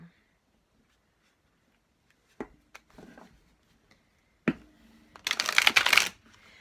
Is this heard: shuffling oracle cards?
yes